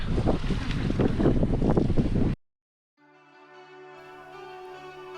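A sailboat at sea gives a loud, dense rush of wind and water for about two seconds. Then it cuts abruptly to near silence, and a faint, steady humming drone slowly rises.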